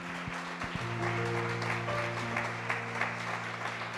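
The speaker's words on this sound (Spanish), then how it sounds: "sí, démosle un aplauso al Señor." A church congregation applauds during a service, a broad steady wash of clapping lasting a few seconds, with sustained organ or keyboard tones ringing underneath.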